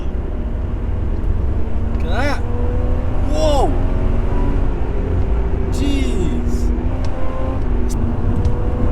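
A 1988 Toyota Supra's engine holds a loud, steady high-rev drone in second gear, continuous throughout, with excited voices exclaiming over it and brief whistling rises.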